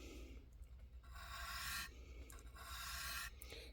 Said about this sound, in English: What I'm starting now with 1000 grit is the polishing process.